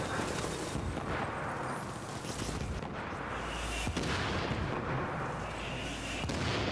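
Heavy, booming gunfire fills the scene in The Division, a shotgun among the shots, with dense continuous blasts and sharp impacts near 3.9 and 6.3 seconds, loud and close throughout.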